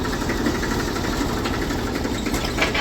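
A Massey 35 tractor engine chugs slowly in top gear across a farm field, a steady low rumbling drone with rhythmic pulsing, close and moderately loud with no voices.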